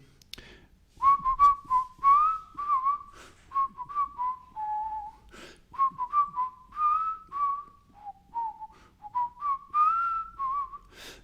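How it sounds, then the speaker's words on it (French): A bird whistles and sings in a long series of clear, bright phrases, some rising and falling, repeated with short pauses between them. "un oiseau qui était par là s'est mis à siffler, à chanter"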